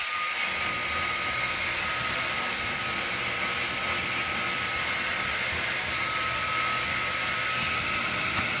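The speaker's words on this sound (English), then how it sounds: "let's see what it does." An FMZ Beauty matte black ionic hair dryer runs steadily and loudly throughout, a constant broadband rushing whoosh with a fixed high whine and no voices.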